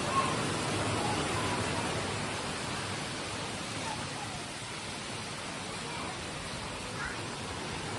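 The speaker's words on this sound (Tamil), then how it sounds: "it's raining, so beautiful" Rain pours down in a jungle, a dense and even hiss that stays constant throughout and fills the space with soft, continuous patter.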